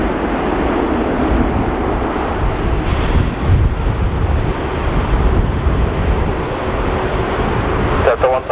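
Strong gusting wind at an airport roars across the microphone as a loud, continuous rumbling buffet with no breaks.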